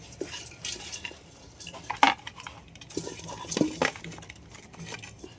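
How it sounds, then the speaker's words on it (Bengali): Knife work on whole crabs at home, with sharp metallic clinks and taps scattered through, two louder cuts standing out over a faint background murmur. "এবার কাঁকড়াগুলো কেটে নেব"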